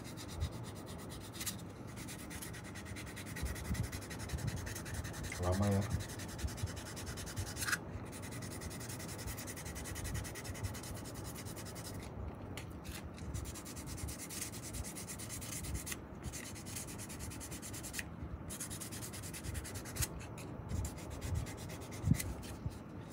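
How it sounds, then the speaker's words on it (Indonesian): Fine sandpaper rubs a new cork on a saxophone neck with steady, soft scraping strokes that continue throughout at a low, close level, with a brief spoken remark near the start. "Tinggal kita halusin pakai amplas halus."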